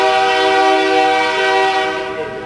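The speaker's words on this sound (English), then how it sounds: "I just missed the big train whistle." A long, loud, steady horn blast from a freight oil train, held for a couple of seconds and tapering off at the end.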